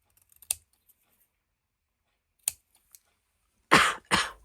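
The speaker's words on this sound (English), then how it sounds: "I don't know where this cough just came from." A few faint clicks, then two sharp, close coughs in quick succession near the end, with quiet in between.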